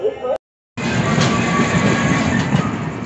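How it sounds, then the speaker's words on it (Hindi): Tejas Express train on the Konkan railway, a loud continuous rumble of rail cars rolling past close by, steady after a brief cut at the start. "तो ये रहा तेजस एक्सप्रेस जिसको आया है।"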